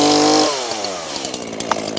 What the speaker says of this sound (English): I got the chainsaw running.